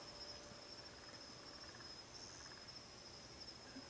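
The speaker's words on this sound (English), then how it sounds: "Very little sounds, just a few crickets, some frogs or some sort of animals out in the distance I can hear." A steady, faint high chirping of crickets fills a quiet night during a 2014 lunar eclipse, with a soft hiss of background ambience and no voices.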